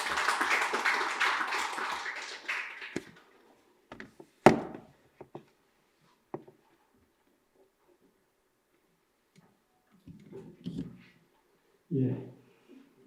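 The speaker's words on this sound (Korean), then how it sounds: "여러분 박수로 청해 듣겠습니다." An audience at a Korean literature forum on AI and literature claps for a presenter. The dense applause fills the first three seconds and fades out, followed by scattered knocks, taps and faint handling sounds in a quiet room.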